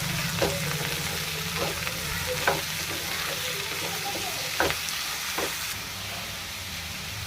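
Cut potatoes frying with fried onions in a pan, a steady close sizzle broken by several sharp scraping stirs of a spoon against the pan.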